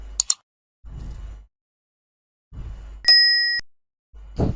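A bright bell ding sound effect for a subscribe-button animation rings out once with a clean, sustained metallic tone that fades quickly, set between soft thumps and brief clicks.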